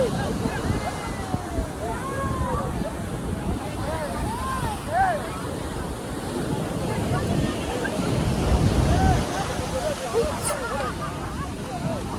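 Surf breaking at Chavakkad beach on a windy day, a continuous rolling wash of waves with wind noise on the microphone and a hubbub of people talking in the background.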